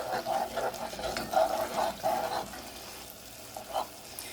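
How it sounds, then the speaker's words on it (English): A spoon stirring an oven-baked shrimp boil, with wet sloshing and scraping in uneven strokes close by, tapering off toward the end, with no talking. "let me get a spoon. and stir this around."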